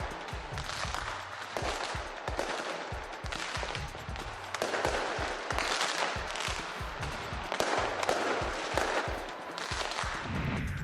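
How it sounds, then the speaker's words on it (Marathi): Rapid, continuous pops and booms of New Year's fireworks exploding, many overlapping bursts with crackling, loud and sustained throughout. "नवीन वर्षाचं फटाक्यांची आतषबाजी करत स्वागत सुद्धा करण्यात आलेलं आहे"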